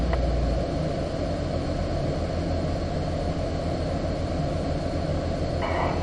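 A car braking from 35 mph straight to full brakes during a driving exercise, heard as a loud, steady broadband roar of tires and road noise from inside the vehicle.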